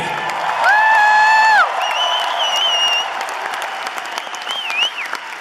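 A large concert crowd in Green Bay, Wisconsin claps and cheers loudly, with high whistles and whoops rising above the dense applause.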